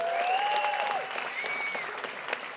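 Sustained applause from an audience at a 2023 athletics hall of fame induction ceremony, a dense steady wash of clapping filling a hall, with a faint whistle-like tone riding over it.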